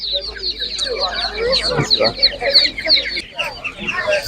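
Hens cluck busily at an outdoor animal market in Ivano-Frankivsk, a dense run of close, overlapping calls with a rooster-like note among them, while a person talks over the flock.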